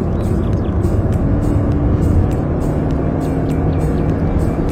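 A Hyundai Kona, a small 147-horsepower car, revs up under acceleration, its engine note loud and sustained while rising through the rev range, with steady road noise beneath and no talk.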